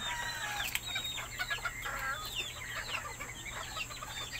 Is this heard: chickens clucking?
yes